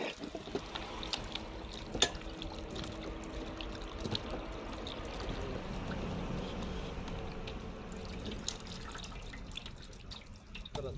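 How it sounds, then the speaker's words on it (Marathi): Raw chicken being washed in water, with faint splashing, dripping and trickling from a tap or sink, a sharp clink near the start, and a soft continuous wet rustle throughout. "2-3 पाण्यामध्ये धुवून घेऊ चांगलं त्याला."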